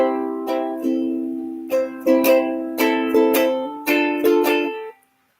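The intro to a song is strummed and picked on a ukulele, a clear, close run of bright chords and notes that stops abruptly at the end, with no talking.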